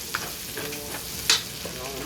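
White sauce cooking in a pan, with a soft steady sizzle and occasional spoon stirs and scrapes, plus one sharper clink near the middle; no voices.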